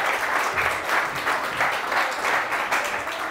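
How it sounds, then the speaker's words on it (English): An audience at a marketing industry panel event applauds a panelist's introduction, with sustained, even clapping from a sizeable crowd that swells in gentle waves for over three seconds. "Please give her a round of applause."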